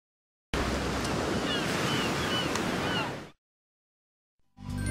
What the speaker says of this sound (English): Watching the waves roll in, watch them roll out.